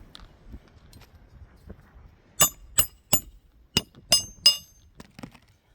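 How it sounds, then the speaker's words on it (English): Six sharp hammer strikes driving nails into roof shingles ring out in an uneven rhythm, each a crisp, metallic tap on a hard surface, with quiet gaps between. "I am starting to see more granule loss as I hammer these nails back in."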